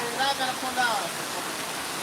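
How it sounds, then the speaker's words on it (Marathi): Heavy cloudburst rain and rushing floodwater: a dense, continuous roar of falling and flowing water, steady and loud, with a voice faintly audible in the first second. "या ठिकाणी ढग फुटी दृश्य पाऊस सुरू आहे हे बघा पाणी इतकं पाणी जोरात वाहतंय"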